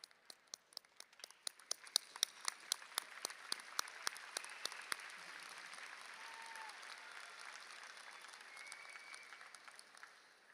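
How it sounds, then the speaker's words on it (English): Audience applause at a high school graduation ceremony, starting with scattered distinct claps that swell into a steady, moderately distant roar of clapping across a large hall, then fading slightly. "Another applause."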